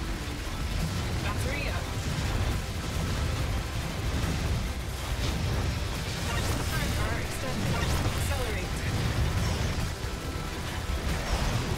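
Enemies detonating in the arcade twin-stick shooter Assault Android Cactus, a dense, continuous wash of bursts and crackling blasts under busy game effects, with someone talking over it.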